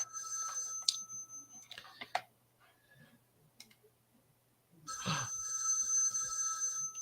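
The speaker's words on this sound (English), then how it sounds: "There's no one to answer the phone." A telephone rings in the 1974 horror film Black Christmas: bursts of bright electronic ringing, then a quieter gap with clicks, then the ringing returns louder and sustained.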